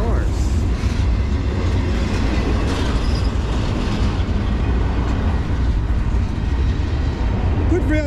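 A freight train rolls past on the Lehigh Line, a loud, close, continuous rumble of wheels and cars with a brief squeal near the end.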